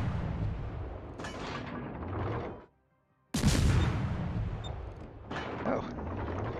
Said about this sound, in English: My guns are pretty decent, pretty fast loading guns, and they hit hard enough